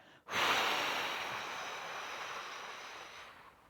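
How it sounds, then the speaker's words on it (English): A forceful breath out during a morning posture breathing exercise, heard as one long breathy exhale close to the mic that starts abruptly and slowly fades over several seconds. "We want to go for a bit more forceful exhale here."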